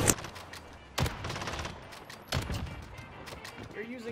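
Video game gunfire in a one-on-one shooter match comes as a few sharp shots spaced about a second apart, with excited talk over them.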